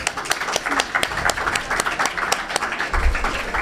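An audience at a French talk applauds, with dense rapid clapping that holds steady throughout and swells slightly near the end.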